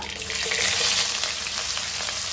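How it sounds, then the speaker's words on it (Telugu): Mustard and fenugreek seeds crackle and sputter in hot tempering oil, a close, bright, continuous sizzle with faint popping and no voices. "ఆవాలు ఇట్లా చిటపటలాడిన తర్వాత"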